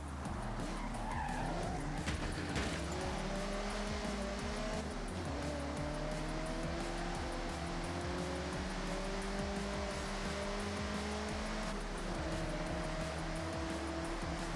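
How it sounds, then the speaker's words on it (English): A convoy of cars driving in the video game Forza Horizon 6, with dense engine roar and long tire squeals and skids sweeping in pitch, loud and continuous throughout, with no talking. "I'd like to think this convoy is loud, rowdy, yet practical."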